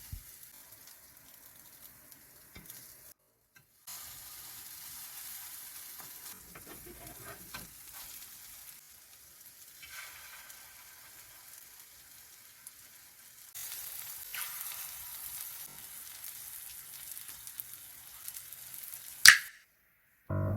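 An oyster pancake fries on low heat in a pan, giving a soft, steady sizzle that goes on throughout with occasional louder crackles and a sharp clank near the end.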